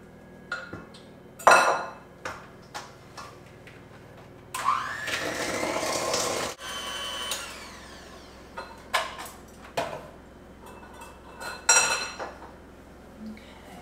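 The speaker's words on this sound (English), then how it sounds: "my butter, my sugar, my eggs, and my vanilla are well blended" Butter, sugar, eggs and vanilla are creamed together for gumdrop cookies, with an electric mixer whirring in one sustained burst amid sharp clinks and knocks of utensils against a bowl.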